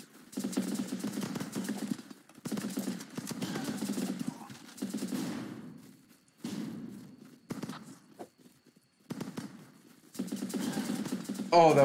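Bursts of gunfire and a grenade blast in the war game Running with Rifles, firing in repeated dense clusters separated by short pauses, fairly loud and close, with no talk over it.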